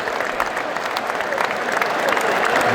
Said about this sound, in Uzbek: Hamma chiqib qarsaklar bilan kuzatib qo'yapti